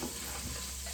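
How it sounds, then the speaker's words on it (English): Steady crackling sizzle of food frying in a pan, a continuous hiss with no voices, close by. "I've got something cooking on the stove behind me"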